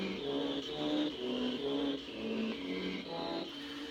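Pitch-shifted lightsaber swings taken from movie footage sweep in a string of whooshing, humming passes that rise and fall rhythmically, steady and close for several seconds with no voices.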